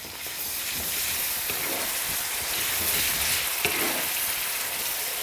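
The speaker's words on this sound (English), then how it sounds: "Okay, mix it all together." Curry with three quarters of a tin of plum tomatoes stirred in a pan, a steady close hiss and sizzle with soft scraping of the spoon running throughout, no voices.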